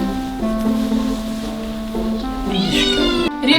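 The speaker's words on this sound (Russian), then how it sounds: "Ребята, почему Мия все время мяукает" A cat meows insistently and continuously, close and loud, with long drawn-out wavering cries indoors.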